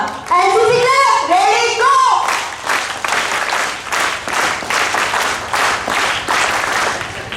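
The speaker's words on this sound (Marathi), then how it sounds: "सर्वांनी जोरदार टाळ्या वाजवा." Strong applause from a school prize-giving audience fills the room, a burst of hand clapping that follows brief children's chatter at the start and carries on steadily to the end.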